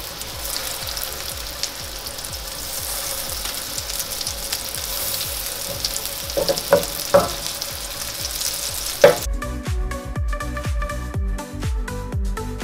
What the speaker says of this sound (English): they're gonna cook for about 2 to 3 minutes aside until they get nice and crisp